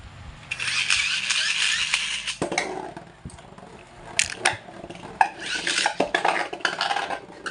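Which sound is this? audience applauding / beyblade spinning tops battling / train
beyblade spinning tops battling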